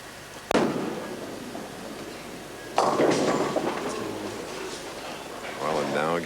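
A bowling ball crashes into pins at a 1987 professional bowling tournament, leaving a split. A sharp impact comes first, followed by a louder, clattering pin crash, with commentary and crowd murmur underneath.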